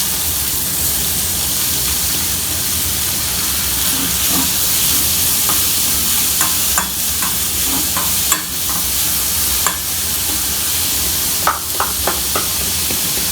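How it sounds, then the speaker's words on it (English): Finely chopped onions fry in oil for a prawn stir fry, with a steady, loud sizzle throughout and occasional scraping taps of stirring. "I am going to add in 1 cup of finely chopped onions."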